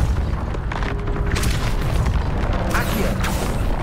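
Casting Depulso in Hogwarts Legacy brings a heavy boom and a rumbling mechanical push, with a couple of sharper bursts layered over a steady low roar.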